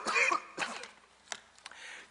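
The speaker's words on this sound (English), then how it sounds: "I inherited a cough last week, and I see it's deciding now to reappear at this timely moment" A man coughs in a few short, harsh bursts, loud and close at the start and then tapering into lighter throat-clearing sounds, with no speech over them.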